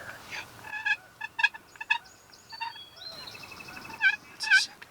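Repeated wild turkey gobbles ring out in quick rattling bursts, fairly close and loud, with short pauses between calls against a quiet outdoor background near a river.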